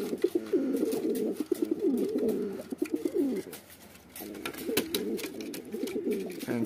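Homing pigeons coo in soft, throaty, repeated rolls, close by, with a brief pause midway and faint background clatter.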